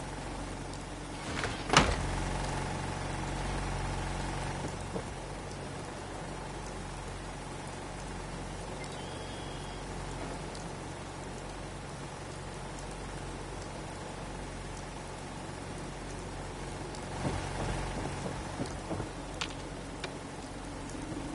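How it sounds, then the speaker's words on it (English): Steady rain and a thunder rumble in a PS4 video game, a continuous hiss of rainfall with a low rumbling swell near the start and another toward the end, no voices. "Hope this rain lets up soon."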